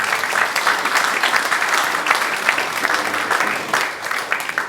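Sustained applause from the congregation at an annual church parish meeting, a dense, steady wash of many hands clapping that fades slightly toward the end, with no talk over it.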